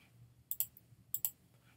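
A computer mouse clicks on trivia game answers, two quick double clicks about half a second apart, crisp and faint, over a low background hum.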